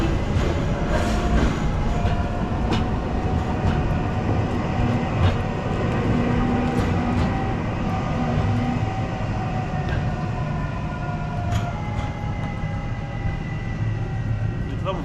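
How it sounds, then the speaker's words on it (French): A tram rolls through the streets of Tourcoing, France, its steady rumble and rail hum close and loud throughout, with occasional clicks and squeals over the running noise while people talk nearby. "c'est le tram de Tourcoing."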